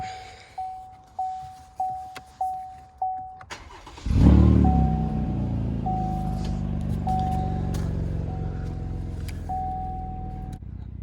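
A 2016 Chevrolet Camaro with the 3.6 engine cranks in a rapid series of starter pulses, catches with a loud surge and then settles into a steady idle. A regular chime sounds throughout.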